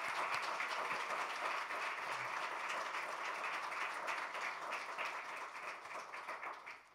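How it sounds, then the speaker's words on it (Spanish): Church congregation applauding, a distant, even wash of clapping with a faint low hum beneath, tapering off in the final seconds. "¿Cuántos le dan un fuerte aplauso al Señor?"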